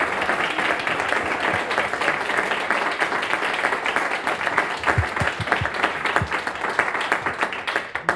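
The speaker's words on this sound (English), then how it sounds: "Let's give Sam and Robbie a big round of applause" An audience gives a big round of applause for two speakers after a talk on white Christian America, dense continuous clapping with a few sharp nearby claps standing out, filling the space without any talk.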